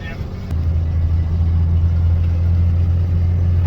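A 650 motorcycle engine runs steadily near the listener, a low droning hum holding through the short stretch with a slight rise, with no distinct gear change standing out.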